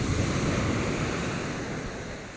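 Ocean waves wash onto the beach at Mbudya Island, a continuous close roar of surf mixed with wind buffeting the microphone, steady and fading slightly toward the end, with no voices.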